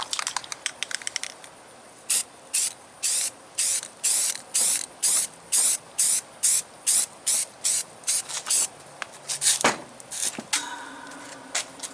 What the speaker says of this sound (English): This is why I bought these 3 cans of cheap spray primer.